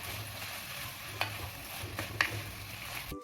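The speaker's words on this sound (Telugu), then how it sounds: "కరివేపాకు కూడా కొద్ది కరివేపాకు వేసుకుని బాగా ఫ్రై చేసుకోండి" Curry leaves and green chilies frying in a pan for an onion curry, a soft steady sizzle with a few brief stirring scrapes, quiet and close, no voices.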